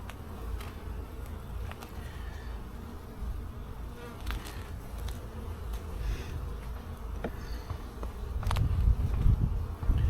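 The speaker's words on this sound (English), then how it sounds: "Nice calm bees though." Calm honey bees at an open hive during an inspection give a steady, soft buzzing hum close by, with a few light knocks and a louder low rumble toward the end.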